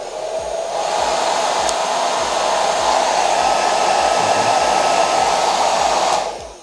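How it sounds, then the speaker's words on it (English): A Philips Hair Dryer 3000 BHD30830, a foldable 1600-watt model, runs with a loud steady airy whoosh and a constant motor hum. It starts abruptly, holds evenly for several seconds, then cuts off near the end. "This is a foldable 1600 watt hairdryer."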